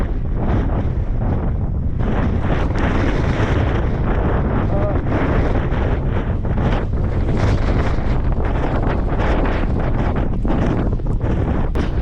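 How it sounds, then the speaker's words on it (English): Strong storm wind roars continuously across the microphone, a loud, unbroken rumble with gusting texture and faint voices underneath, outdoors at an off-grid homestead. "A lot of wind."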